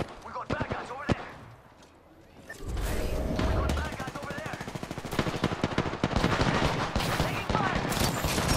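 Apex Legends gunfire: a few scattered shots, then sustained rapid automatic fire that roars on for several seconds, loud and dense, mixed with other game effects.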